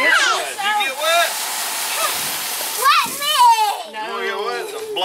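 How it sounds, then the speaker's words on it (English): Water splashes and sprays steadily while children shout and chatter excitedly over it, close by. "Blast you with water."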